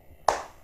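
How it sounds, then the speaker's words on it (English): A single sharp hand clap, close and alone in an otherwise quiet moment, demonstrating someone's slow, off-rhythm way of clapping. "That's how he claps"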